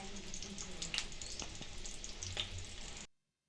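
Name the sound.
frying vadas (fritters) in oil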